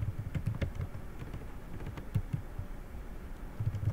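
Soft, irregular keystroke clicks come from a computer keyboard while Java code is being typed, faint and scattered across a few seconds with low background hum.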